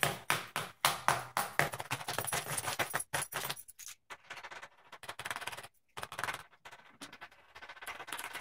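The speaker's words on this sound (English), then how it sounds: "Now I'm going to do a scratch test with my car keys" Car keys scraping and tapping across a glass screen protector on an iPhone Plus, a series of sharp jangling strikes followed by rougher scratching, close up and fairly faint.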